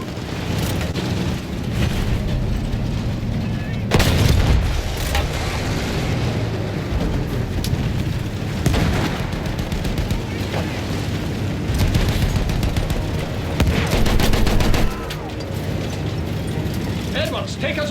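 Loud, continuous World War I battlefield din in Battlefield 1: rumbling field gun explosions and gunfire, with heavy booms near 4 and 14 seconds over steady background fighting.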